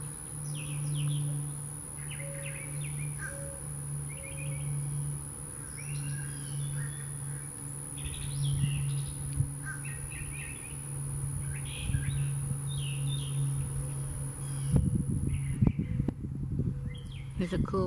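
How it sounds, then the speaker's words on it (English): Birds chirp and sing in scattered bursts over a steady outdoor hum, with a buzzing insect-like tone throughout and some rustling near the end. "listen to the birds as they sing."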